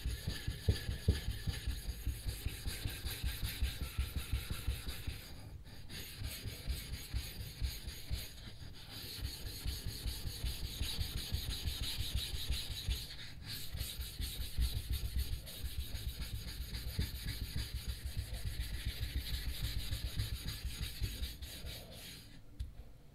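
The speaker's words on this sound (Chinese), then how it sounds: "新底石拿到手一定要从头到尾的给它打磨一遍然后再用。" A new sharpening stone is lapped flat before first use, giving a continuous gritty rasping and rubbing. The strokes repeat steadily, close and fairly loud, with no talk.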